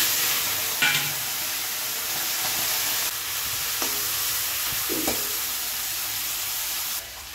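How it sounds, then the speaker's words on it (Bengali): Shrimp frying in hot oil in a home kitchen pan, a steady close sizzle with occasional stirring clinks and scrapes, no voices. "এবারে দিয়ে দেবো এই চিংড়িগুলোকে, আমি ভেজে নেবো।"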